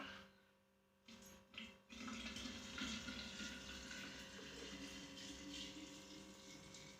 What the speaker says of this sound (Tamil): இப்போ பார்த்தீங்க அப்படின்னா நம்ம தண்ணியை ஊற்றிக்கலாம்.